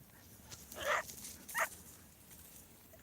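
Dogs chasing a lure in a coursing race give two short, excited yelps close together, fairly faint against steady outdoor background noise.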